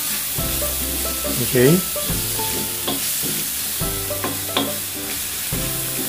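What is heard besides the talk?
sautéing in oil in a pan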